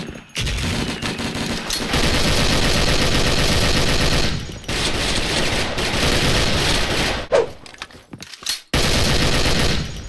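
A Soviet-era Degtyarev machine gun fires long, sustained automatic bursts in a video game. Each burst is loud and rapid and stops abruptly, with short gaps between them and some separate single shots near the end.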